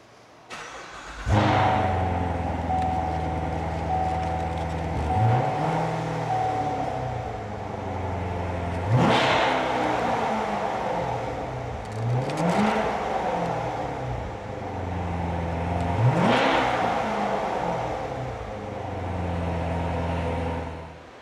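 A 2016 Chevrolet Corvette engine cranks and catches, then settles into a deep idle and is revved three times in sharp rising bursts that fall back to idle, loud and close with no talking.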